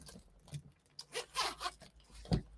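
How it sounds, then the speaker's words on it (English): Cash envelopes with zips being opened at close range, several short quiet zipping runs with soft handling noises between them and no talk. "Grab my cash envelopes,"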